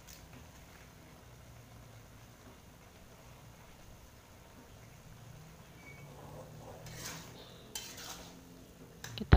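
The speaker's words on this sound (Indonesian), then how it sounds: "Kita aduk-aduk." A spoon scrapes and stirs tender beef tendon (kikil) with green chilli in a pan, faint and soft at first, then a few louder clinks and scrapes near the end.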